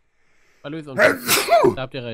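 A single sharp sneeze bursts out mid-clip during a casual Minecraft modded gaming session, close and loud, surrounded by people talking.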